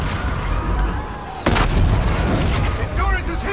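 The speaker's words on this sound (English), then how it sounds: "Our enemy's guns are still firing on our fleet." Enemy guns fire on a space fleet in the Call of Duty: Infinite Warfare campaign, with a loud sudden blast partway through followed by continuous rumbling battle noise and scattered bursts, under a busy, dense soundscape.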